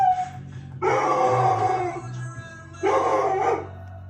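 A dog gives two drawn-out, whining barks close by, separated by a short pause, over a low steady background hum.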